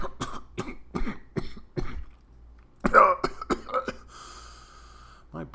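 A burst of repeated harsh coughs, close and loud, broken by a few spoken words and sharp breaths.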